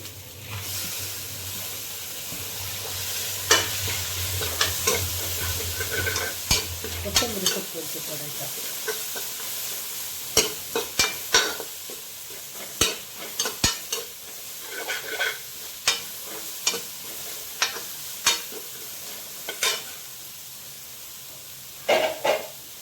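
Sliced onions fry in a spoonful of ghee with a steady close sizzle, while a spoon scrapes and clinks against the pan in a long run of irregular stirring strokes, with no talking over it.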